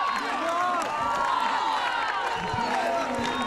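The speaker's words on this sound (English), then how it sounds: "The crowd are willing him on." Spectators at a Men's Health Survival of the Fittest race in Cardiff cheer on a struggling runner with a continuous loud roar of shouts and whoops, talk layered over it.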